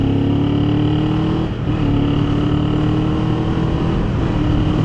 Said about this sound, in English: I give it more throttle, gas turns